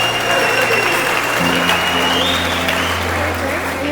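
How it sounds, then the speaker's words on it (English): Outdoor crowd applause for the organizers at a mountain bike race event, a steady dense wash of clapping under a faint tonal hum, continuous throughout. "Let's give everybody a nice big round of applause."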